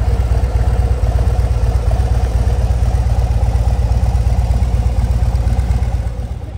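A motorcycle engine, one of the riders' bikes at the Sturgis rally, runs steadily with a loud, low pulsing throb that holds through the clip and eases slightly at the end, with no talking.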